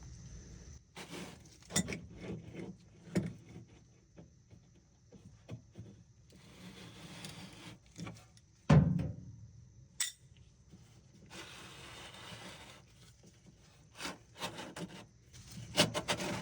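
Washer drain pump filter cap on a Whirlpool/Maytag machine being unscrewed by hand or with pliers, giving quiet scattered scrapes, clicks and plastic rubbing in short bursts with pauses between.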